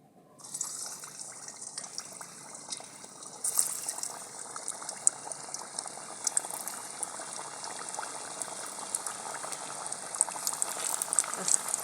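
Bread tikkis sizzle and bubble in hot refined oil in a kadai, a steady close frying hiss that swells as more pieces go in, with faint talk underneath.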